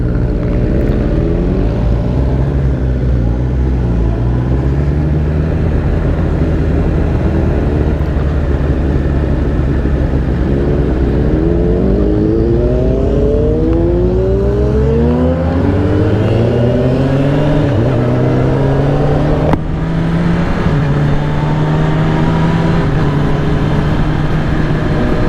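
A Honda CB1000R motorcycle revs and accelerates hard, its engine pitch climbing and dropping through quick-shifter gear changes, loud and close, with steady wind rush and no talk.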